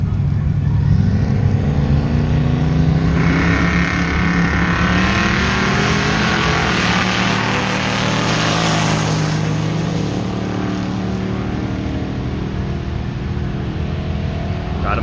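A ChevStang drag car launches hard down a drag strip, its engine roaring loud and continuous as it pulls through the run, heard close and with no break.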